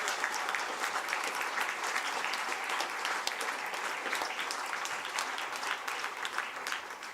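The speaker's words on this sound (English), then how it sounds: "I'd just like all lads to give you a round of applause for your efforts." Sustained applause from the squad for a football team after an English Cup final match, dense steady clapping throughout with no talk over it.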